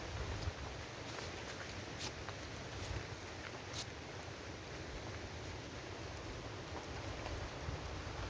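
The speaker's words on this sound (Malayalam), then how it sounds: "നല്ല മഴയുടെ ഒരു ഇതാണ്." Steady rain falls across the Ambanad hills among clove, cardamom, coffee and tea plantations, a continuous soft hiss and patter of drops with occasional faint ticks, even and unbroken throughout.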